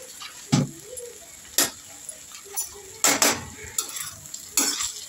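A spoon clanks and scrapes against a pan while fried rice with soy sauce and vinegar is stirred, sharp metallic knocks recurring irregularly over a faint sizzle.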